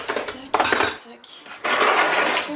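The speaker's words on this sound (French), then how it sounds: "j'avais pas fini de vider la vaisselle" Dishes and cutlery clatter loudly as a dishwasher is emptied, with bursts of clinking plates and rattling silverware separated by a brief quieter gap, close by.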